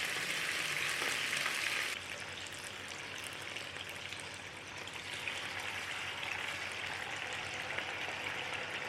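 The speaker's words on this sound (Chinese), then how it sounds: "然后把腌好鸡腿一块一块的放到平底锅上面" Marinated chicken legs frying in a little oil in a flat pan over medium-low heat, giving a steady, dense hiss and crackle with fine popping throughout, no talk over it.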